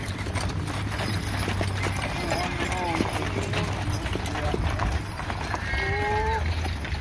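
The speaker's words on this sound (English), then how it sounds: "driving the horses" Several horses driven by a buyer at a horse sale beat a steady, rapid clip-clop of hooves close by, with voices and a few brief whinny-like tones over the continuous outdoor din.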